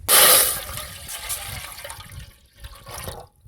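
Soaked toor dal tipped into a pot of boiled water for village-style tomato dal, making a loud close splash and rush of water at first, then fading sloshing and bubbling.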